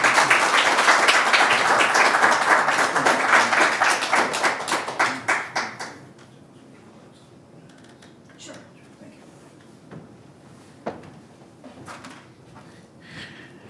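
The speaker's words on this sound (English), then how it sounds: "Let's give him a huge round of applause." Applause from a poetry-night audience at Caffe Lena fades from a full crowd clatter into scattered individual claps over about six seconds, followed by quiet room sounds with a few faint taps and knocks.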